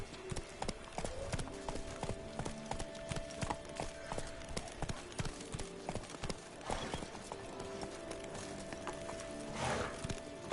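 Hooves of the horse Roach clip-clop in The Witcher 3, a steady close rhythm of sharp hoof strikes on hard ground with a brief snort or whinny near the end.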